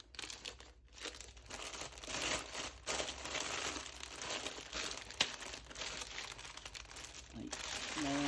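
A small plastic Lego bag is torn open and crinkled close up, steady crackling rustle throughout with sharp crinkly bursts, no voices.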